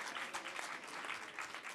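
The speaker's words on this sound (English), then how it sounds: "Round of applause for Marissa," An audience applauds a presenter at an innovation pitch competition finale, a brief burst of dense, steady clapping from a crowd at moderate distance.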